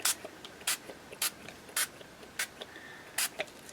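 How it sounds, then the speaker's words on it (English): Spray bottle of distress stain misting onto a junk journal cover, a string of quick sharp spritzes at an uneven pace, close and fairly loud, with light handling noise between them and no voices. "So all I'm going to do now is come in with some of my sprays."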